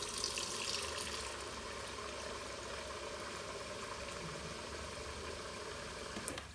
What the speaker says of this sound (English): operate the valve until you've dispensed a full 1 litre